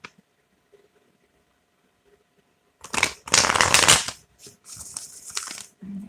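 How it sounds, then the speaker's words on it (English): A deck of reading cards is shuffled by hand in loud, dense riffling bursts of papery flutter, broken by short pauses, after almost three seconds of near silence. "I'm just going to shuffle until this deck tells me it's good."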